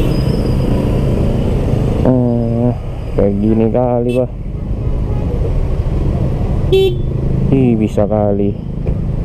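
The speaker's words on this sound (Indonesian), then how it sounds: "Mobil-mobil ini rupanya yang buat macet." Cars sit in a traffic jam outside a school in Medan, with a constant low engine rumble and idling traffic noise beneath someone talking close by.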